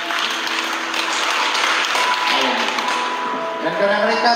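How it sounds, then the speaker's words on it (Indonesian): Guests at a wedding ceremony clap for the newly married couple, a dense, steady burst of applause sustained throughout, with faint voices mixed in. "Kita berikan saudara di tepuk tangan meriah."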